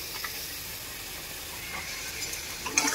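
Ground turmeric, coriander, cumin, chili and salt sizzle as they fry in a pan for a Bengali potol chingri dish, a steady soft hiss with faint crackles building near the end.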